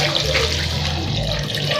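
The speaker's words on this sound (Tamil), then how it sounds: "இதில் நான் ஒரு 1/2 கப் தண்ணி ஆட் பண்ணிக்கிறேன்." Half a cup of water is poured into a pan of mushroom masala, making a steady, close gushing splash that fills the short moment without any talking.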